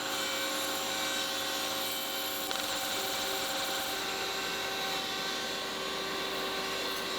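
A router whines continuously at high speed, a loud, steady machining drone cutting a chamfer into OSB board without pause.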